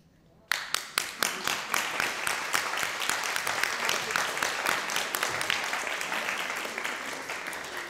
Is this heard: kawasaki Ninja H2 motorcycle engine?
no